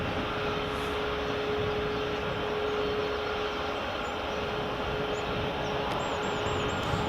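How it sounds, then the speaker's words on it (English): A United Airlines jet taxis at Edinburgh Airport, its engines producing a steady, loud roar with a faint whine held throughout, with no voices present. "That's the United Taxiing."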